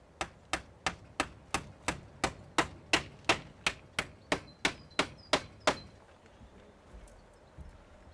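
A hammer drives nails through a timber batten onto a polytunnel cover, striking about sixteen evenly spaced, sharp knocks in a steady rhythm before stopping, leaving quiet outdoor background.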